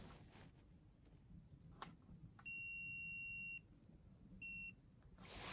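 Two steady electronic beeps from a multimeter continuity test, a one-second tone followed by a shorter one, sound over a quiet background with a few faint clicks.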